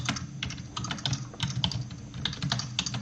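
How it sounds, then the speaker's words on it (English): Typing code on a computer keyboard, a quick and uneven run of close, crisp key clicks with no talking. "you simply type this header"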